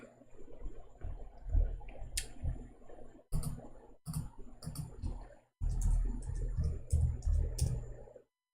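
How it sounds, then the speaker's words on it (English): Someone types on a computer keyboard, bursts of quick, irregular clicks broken by short pauses, close and moderately loud. "Here we go, this stupid keyboard."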